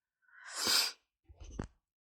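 A single loud, close sneeze with a sharp breathy burst, followed by a brief sniff or exhale.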